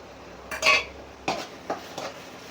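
A spoon scrapes and clinks against a pot as ginger garlic paste is stirred into fried masala for fish biryani, with a few distinct strokes spaced out, moderately close and fairly quiet.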